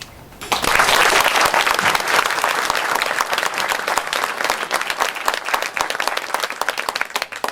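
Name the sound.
audience applause at a sheriff candidate forum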